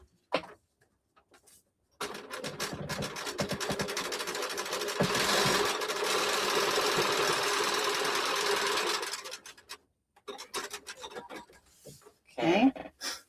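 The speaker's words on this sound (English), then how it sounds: "we're just going to stitch straight down along that seam allowance" Sewing machine stitching straight down a seam allowance on a T-shirt appliqué project, one steady run of about eight seconds, close and fairly loud, with brief handling noises before and after.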